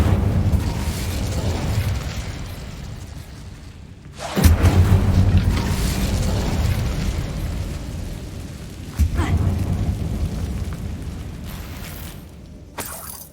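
A fiery Incendio spell blast in Hogwarts Legacy bursts loudly, followed by a second boom later, with rumbling crackle and game sounds filling the gaps and brief speech over the top.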